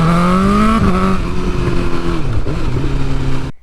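A 2022 BMW S1000R fitted with race exhaust headers revs hard close by, its engine note climbing, dipping and climbing again in a loud continuous roar before cutting off at the end.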